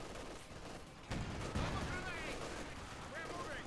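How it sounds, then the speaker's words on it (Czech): Distant mortar and cannon fire in the World War II strategy game Company of Heroes 2, dull booms and crackling shots rolling under a busy battle mix, with a louder thump partway through and talk over it. "Nějaký minomet nebo nějaký dělo tam je."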